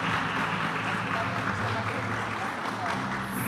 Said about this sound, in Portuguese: Peço uma salva de palmas para elas